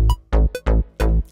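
Punchy music with a heavy, deep bass in short repeated hits, bright synth stabs on top, loud and close.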